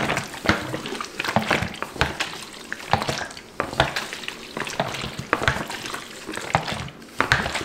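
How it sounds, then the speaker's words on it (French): Developer liquid sloshing inside a black-and-white film developing tank as it is repeatedly inverted, rhythmic close splashes and knocks with no talking. "Je prends ma cuve et pendant 10 à 15 secondes, je vais faire des retournements dans un sens."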